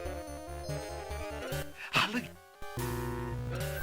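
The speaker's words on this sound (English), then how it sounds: "Bless you, Jalo." A character sneezes once in the King's Quest VI adventure game, a brief burst that cuts through the game's plinking background music, which pauses briefly and then resumes.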